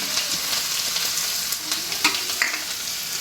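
Garlic, cumin and asafoetida tempering in hot oil with chillies in a home kitchen, a close, continuous crackling sizzle with a few sharp pops and stirring scrapes.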